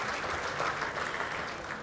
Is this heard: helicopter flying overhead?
no